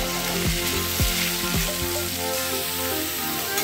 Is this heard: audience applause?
no